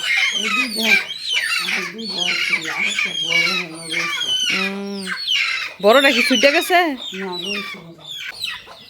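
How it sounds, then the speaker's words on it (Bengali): Free-range village hens squawk and cluck in alarm while being caught for slaughter, loud and close in repeated agitated bursts, with people talking over them throughout. "সব মুরগি আন্দোলন শুরু করে দিছে মুরগি ধরার কারণে"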